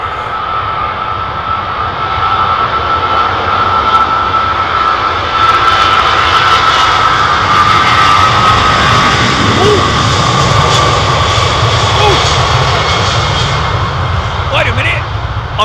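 An airliner powered by Rolls-Royce Trent jet engines passes loud and close at Heathrow, a heavy sustained roar with a strong tonal whine that builds in the middle, and a voice briefly speaks over it.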